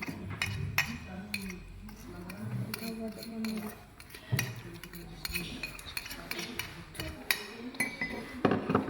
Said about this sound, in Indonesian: kita masukkan ke dalam gelas